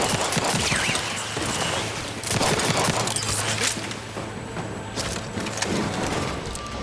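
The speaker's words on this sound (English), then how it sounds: "Let's try the light pistol. I'm running out of bullets." Light pistol gunfire in The Outer Worlds 2 comes as dense, loud bursts of shots layered with game combat noise, continuing through the whole stretch with little pause.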